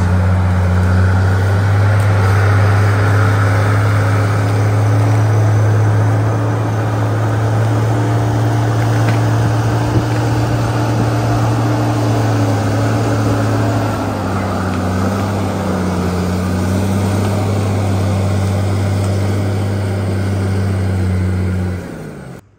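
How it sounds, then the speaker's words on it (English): A Murphy service truck pulls away from a logging site, its steady diesel drone loud and close at first. The engine note drops in pitch partway through and the sound eases slightly as the truck recedes, with no talk. "is the Murphy service truck leaving for the second time today"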